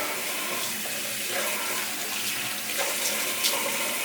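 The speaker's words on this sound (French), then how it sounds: "Donc, on va rincer. De préférence avec de l'eau tiède à froide." Lukewarm tap water running steadily to rinse a foot mask off, a continuous broadband splash from a faucet with slight surges of flow, close and alone without talk.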